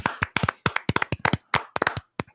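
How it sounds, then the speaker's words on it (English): Irregular bursts of hand claps, a dozen or so sharp slaps in quick uneven clusters with brief pauses, close and fairly loud. "Let's have a round of applause"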